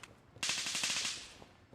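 Rapid automatic fire in Gray Zone Warfare, a magazine dumped in one quick burst of closely spaced shots lasting about a second, loud and harsh, with no speech.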